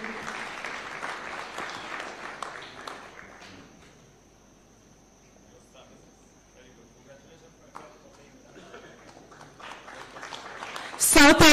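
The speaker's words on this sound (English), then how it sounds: "A round of applause, kindly." An audience claps at a Kenyan taxpayer award ceremony in Nairobi. The applause is strong at first, thins to scattered claps in the middle, then swells again at the end.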